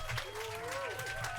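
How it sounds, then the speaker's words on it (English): Rhythmic clapping set within in-game background music, a steady run of soft claps layered over a sustained melodic tone and low hum, with a voice speaking over it. "it was like just clapping sound"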